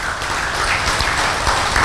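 Loud, close applause from a group at a full moon meditation gathering, a dense, continuous wash of clapping lasting under two seconds with no voices.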